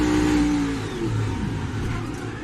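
Onboard a NASCAR stock car at Pocono Raceway, the engine roars loud and steady with a slight dip and rise in pitch as the car runs at speed, nothing else heard over it.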